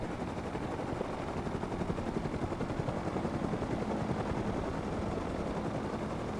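A helicopter in the survival game Rust produces a dense, continuous rotor thrum with rapid pulsing chop, loud and close throughout, with no talk over it.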